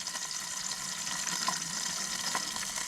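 Warm water pours steadily from a container at a desert campsite for activating yeast for dough, a continuous, fairly close trickling with no talking.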